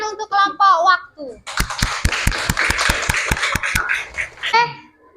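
Children in a classroom clap together in a quick, evenly spaced run of about a dozen sharp claps lasting a few seconds, with children's voices before and after and a brief high squeal over the claps.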